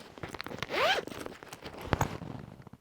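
A zipper on a sewn fabric bag is drawn in one quick, close rasping pull, followed by faint handling rustles and small clicks.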